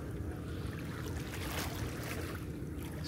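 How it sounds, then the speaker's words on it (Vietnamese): Motorboat on the sea at Tân Thành beach in Vietnam, a steady low engine rumble mixed with wind and water noise, fairly close and continuous, with no talking. "Xuồng máy nè."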